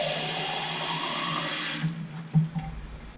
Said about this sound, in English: put it in the container with just water